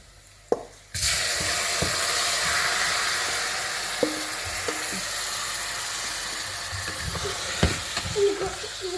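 Prawns tipped into a hot frying pan for a spiced theeyal burst into a loud, steady sizzle after a brief quiet moment, with occasional clinks and stirring knocks over the continuous frying hiss.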